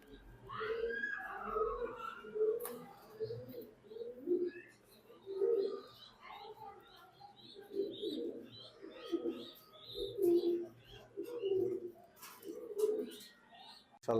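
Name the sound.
racing pigeons cooing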